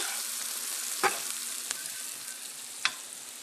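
Green beans, onions and celery fry in a pan, giving a steady, even sizzle throughout with a few brief clinks or stirs standing out above it.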